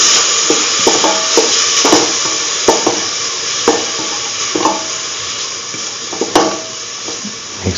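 Curried chickpea yogurt rice being stirred and mixed in a pan, with repeated scraping and knocking of a spoon against the vessel over a continuous soft hiss, fairly close and loud.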